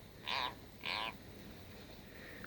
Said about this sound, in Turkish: Arkadaşlar bu ses hiç normal değil. Çünkü kurbağa böyle bağırmaz.